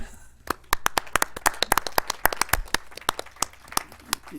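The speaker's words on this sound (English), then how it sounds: "Would you mind if we just, before we vote, clapped for you?" A room at a North Las Vegas city council meeting claps for a departing council member, a dense run of hand claps at close range that swells into steady applause.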